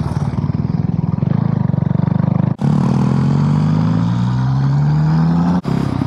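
A motorcycle engine runs steadily on a ride through a conifer forest, a loud, close throb with rising revs, briefly cut twice by short gaps, with no talking.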